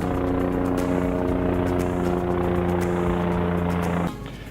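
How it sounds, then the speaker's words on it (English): Loud, steady rotor drone of a helicopter flying overhead at a campsite, with a deep throbbing hum and rhythmic chop, cutting off abruptly near the end to quieter background. "Hang on, there's a helicopter."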